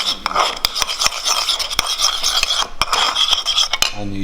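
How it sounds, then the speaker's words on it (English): A utensil stirring red wine vinegar dressing, close sharp clinks and scraping taps against the container in quick irregular succession, no voices. "Just give it a stir."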